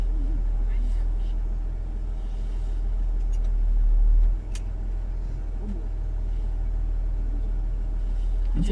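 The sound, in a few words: big pickup truck driving up Imogene Pass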